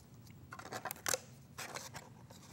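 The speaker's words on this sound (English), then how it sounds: "I'll trim off the edges." Scissors snipping along the edges of a handmade mask, a few close, crisp cuts in short bursts with brief pauses between them, no talk.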